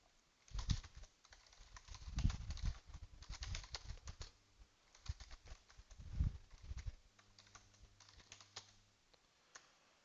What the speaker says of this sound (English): I'm going to go ahead and type it out